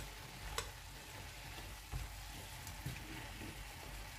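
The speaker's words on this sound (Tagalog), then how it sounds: "Hahaluin natin." Patola soup with chicken and shrimp being stirred in a pot, a soft steady sizzle and faint scraping with a few light clinks, quiet and close with no talk.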